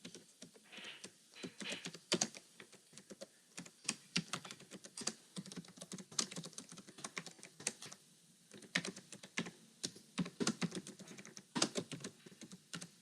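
Rapid, uneven keystrokes on a computer keyboard with short pauses between bursts, close and fairly quiet, with no voices.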